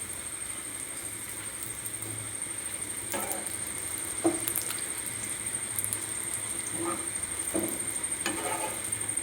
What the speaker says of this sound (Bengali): আজকে রামনগরে পরোটা দোকানে যেইভাবে পরোটা ভাজা হয় সেইভাবে আমি আজকে রামনগরের মতন পরোটা স্টাইলে করছি।